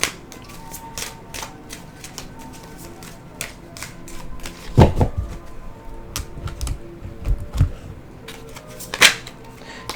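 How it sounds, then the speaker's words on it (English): Tarot card decks are cut and shuffled by hand, making soft riffling and papery slaps with a few sharper snaps, close and intermittent. "I did pre-shuffle these decks. So I just wanted to give them a few fresh cuts for you guys."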